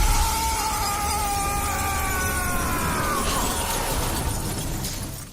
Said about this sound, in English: he's beaten through a glass roof